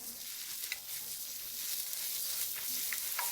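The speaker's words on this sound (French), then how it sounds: "Faire revenir l'oignon et la carotte avec du sel." Chopped onion and carrot fry with salt in a pan, giving a steady close-up sizzle and hiss with a few faint stirring clicks and no voices.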